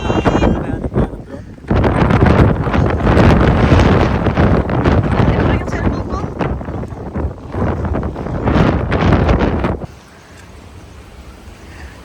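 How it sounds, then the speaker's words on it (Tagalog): Strong wind in Sorrento roars and buffets the microphone in heavy gusts, with a brief voice speaking over it before the wind suddenly drops to a low rumble. "Ang lakas ng hangin."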